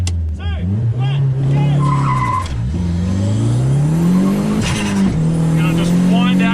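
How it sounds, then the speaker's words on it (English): A turbocharged Toyota Yaris engine on a top-speed run roars loudly from inside the car, revving high into second gear and bouncing off the rev limiter with wavering pitch, and a voice talks over the engine. "Hitting rev limiter in second gear."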